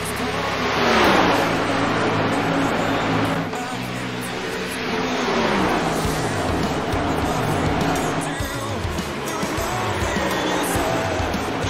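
NASCAR race cars at speed on an oval track, including the number 14 on slightly newer tires running the outside, engines droning loudly as they pass and rise and fall in pitch, with a commentator talking over the roar.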